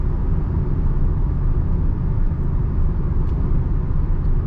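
Steady low road rumble and engine drone inside a 2025 Maruti Ertiga CNG seven-seater cruising at about 90 km/h, constant and even throughout with no talk.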